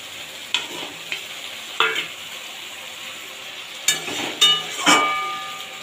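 Poa bhola fish pieces go one by one into hot oil for a spicy onion-leaf curry, each drop setting off a sharp sizzling burst among softer stirring and light utensil clinks.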